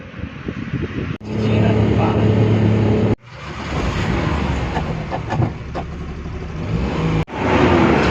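A vehicle engine drives and accelerates in close, loud bursts, broken by brief cut-offs, with a steady mid-range hum throughout; voices can be heard faintly alongside it.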